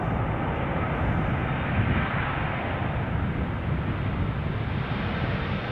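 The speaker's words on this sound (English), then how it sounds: "KLM, Embraer in the foreground. Taking off." A KLM Embraer jet takes off at Schiphol, producing a steady, broad roar of engine and rushing air that stays even and fairly distant throughout, with no voices.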